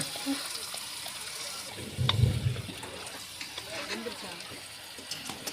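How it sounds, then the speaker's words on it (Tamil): Chicken marinated in masala and added to a pan for chicken varuval sizzles and fries as it is stirred, with a brief louder burst of frying and scraping, fairly faint under light background noise. "மசாலா எல்லாமே சிக்கனில் படுற மாதிரி நல்லா கிளறி விட்டுடலாங்க"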